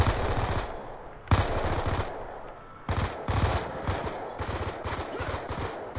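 Rapid automatic gunfire in the Roblox game Jailbreak rattles in dense bursts, several long strings of quick shots separated by brief gaps, loud and close.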